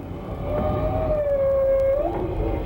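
Humpback whale song picked up by an underwater microphone lowered into the sea: one long, smooth, slowly gliding tonal moan with faint harmonics over a rumbling water background.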